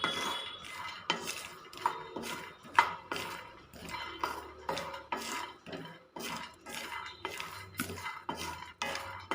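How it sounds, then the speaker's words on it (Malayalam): Cashew nuts and flattened rice being fried and stirred in a pan, with repeated clinks and scrapes of a spoon against the metal and a soft frying hiss underneath, no talking. "നമുക്ക് കുറച്ച് കാഷ്യൂ നട്ട്സും കൂടെ ആഡ് ചെയ്ത് കൊടുക്കാം. അതും കൂടെ ഒന്ന് ഇതിൻ്റെ കൂടെ ഒന്ന് ഫ്രൈ ചെയ്തെടുക്കാം."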